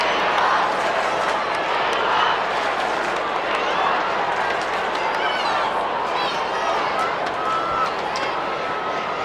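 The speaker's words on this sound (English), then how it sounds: "Crowd making plenty of noise." Stadium crowd at an Australian football match between Geelong and Melbourne, a loud continuous roar of cheering that stays steady throughout, with a commentator talking over it.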